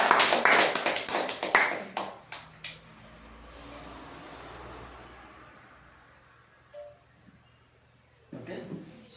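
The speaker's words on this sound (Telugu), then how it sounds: "క్లాప్స్." Clapping from a small group at a business meeting, a quick burst of sharp claps that fades out within about two seconds, followed by quiet room tone and a few faint knocks.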